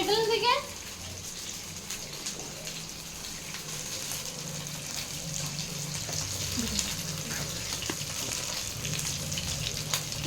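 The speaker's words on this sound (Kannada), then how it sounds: "ಬಿಡಿ ಸಾಕು ಫ್ರೈ ಆಗೈತೆ" Kebab pieces fry in hot oil in a pan, giving a steady low sizzle and crackle throughout, with a clatter at the start and people talking faintly in the background.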